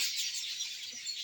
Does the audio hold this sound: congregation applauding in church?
no